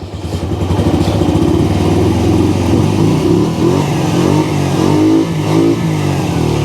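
A cold 1999 Honda Shadow 125 motorcycle engine runs loudly and steadily up close, idling with a rough, throbbing rumble and slight rises in revs.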